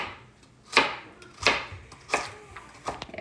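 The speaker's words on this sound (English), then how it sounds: "I'm just chopping them up into about this size pieces" A knife chops through a handful of baby carrots on a cutting board for a broccoli and cheddar soup. Four sharp, evenly spaced cuts land close and clear, with quiet gaps between them.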